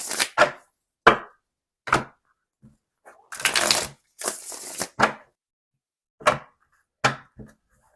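Tarot card shuffling with a few quick riffling bursts and scattered sharp taps and slaps, close and clear, with no talking.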